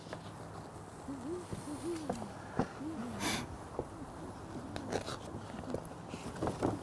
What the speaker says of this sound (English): This is the great horned owl.